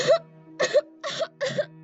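Four short, forced coughs in a loose, even rhythm, close and clear, with brief pauses between them and a faint background hum.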